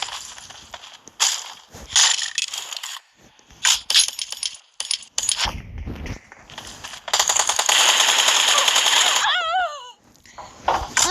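Bursts of video game gunfire crackle in rapid, irregular volleys, broken by short gaps and ending in a dense, sustained stretch of shots, with no talking over it.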